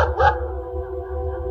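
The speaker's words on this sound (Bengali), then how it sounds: "পাশের পাড়ার কুকুর ডাকছে," A neighbourhood dog at night gives a drawn-out, howling bark that holds steady for the whole moment, with a slightly louder start and no other voices.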